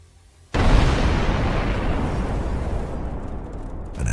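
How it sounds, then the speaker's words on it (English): Enormous explosion of an ammunition depot holding Russian missiles after an FPV drone strike, a sudden loud blast that rolls on as a sustained, thundering roar without letup. "An enormous explosion of Russian missiles."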